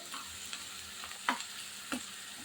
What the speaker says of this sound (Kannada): ಎಣ್ಣೆಯಲ್ಲಿ ತುಂಬ ಚೆನ್ನಾಗಿ ಬಾಡಿದೆ ಅದು